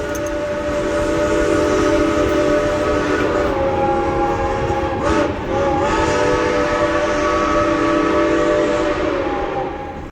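A Durango and Silverton narrow gauge test freight train of former East Broad Top hoppers and 1880s Rio Grande freight cars sounds a long, loud steady whistle, briefly interrupted midway, over rumbling rail noise.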